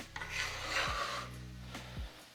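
A bench scraper scrapes food up from a kitchen work surface while a vegetarian toad in the hole is prepared, giving a few close raspy scraping strokes with brief knocks of the metal blade.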